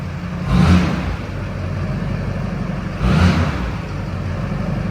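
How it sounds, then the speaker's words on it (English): A leveled, tuned Chevrolet Silverado 2500HD 4x4 pickup with an aFe intake and 5-inch exhaust idles with a deep rumble, then revs twice in short bursts a few seconds apart, the exhaust swelling briefly each time. "I'm going to have my partner here, Mark, rev it up a little bit so you can hear the exhaust"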